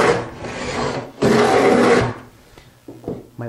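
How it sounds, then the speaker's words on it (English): Two long rasping strokes of a plow hand plane cutting a groove in wood, each about a second of loud broadband shaving noise, followed by a few fainter knocks and scrapes as the plane is repositioned. "So we can go ahead now and continue plowing this groove."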